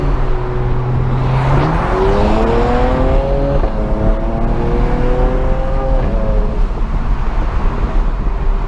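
A car with a dual-clutch transmission, driven from inside on Falken tires, downshifts and then revs as engine pitch jumps and climbs through a couple of gear changes, loud and continuous over road and wind noise.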